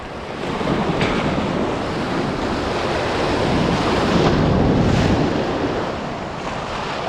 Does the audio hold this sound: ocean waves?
yes